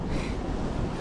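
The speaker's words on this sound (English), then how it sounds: "This wind's unbearable." Strong wind buffets the microphone beside the Rufford Canal in winter, a loud, steady broadband rumble with gusty low-end thumps and no voices.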